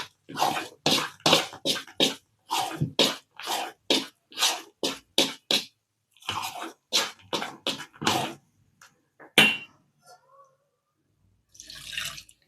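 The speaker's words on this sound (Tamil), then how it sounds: "மிக்ஸி சாரை கழுவி கொஞ்சம் தண்ணி ஊற்றிக்கலாம்." Water splashes and pours into a washed mixer grinder jar in a home kitchen, arriving in a series of short, close bursts and then trailing off into quiet.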